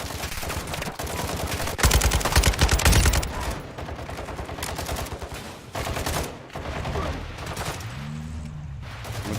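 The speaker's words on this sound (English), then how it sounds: "Taking effective fire!" Sustained automatic gunfire in the Warzone 2 DMZ, loud and near, with rapid overlapping bursts and brief lulls, a louder stretch early on, and a low rumbling engine-like drone toward the end.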